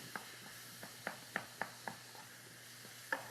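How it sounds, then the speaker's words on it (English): Ground beef and chopped onion browning in a pan, with faint sizzling under a run of sharp, scattered clicks and taps like a utensil stirring and scraping at close range. "We're going to just brown up our ground beef and our onion."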